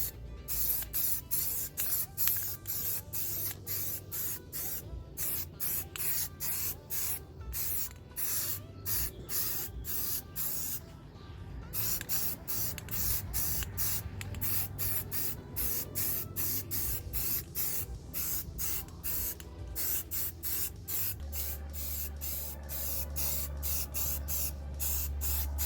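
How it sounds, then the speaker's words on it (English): A second heavy coat of paint is sprayed onto a Smart car's wheel rims, a steady close hissing spray in long bursts with brief pauses, continuing throughout with no talk. "now we're going to start the second coat. We're going to do the heavy coating."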